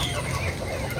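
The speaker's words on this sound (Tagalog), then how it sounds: "ito yung manok." A chicken clucking on a Filipino backyard farm with pigs and turkeys, a steady close barnyard murmur of clucks filling the short moment without speech.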